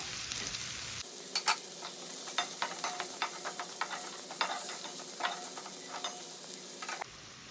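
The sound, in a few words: onion and garlic frying in pan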